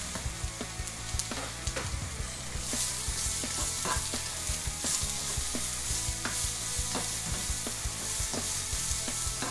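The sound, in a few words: chili peppers, capsicum peppers and garlic frying in a pan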